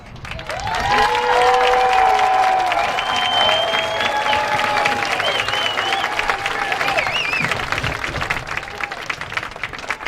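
A graduating high school crowd at the Cuyahoga Heights Class of 2021 commencement applauds steadily, a broad wash of clapping with a sustained voice or tones drifting over it, continuing evenly throughout.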